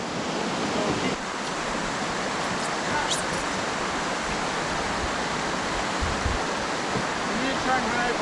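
Water pouring over a weir on the River Barrow, a continuous loud rushing wash close by, with faint voices in places.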